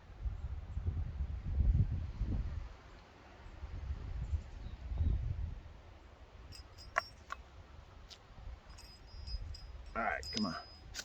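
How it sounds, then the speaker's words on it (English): Outdoor wind blowing in low rumbling gusts that swell and fade over several seconds, with faint rustling and light bird chirps near the end. "And here comes more wind."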